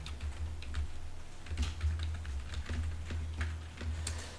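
Rapid, uneven clicks of a computer keyboard as code is typed, close and fairly quiet, with short pauses between bursts of keystrokes.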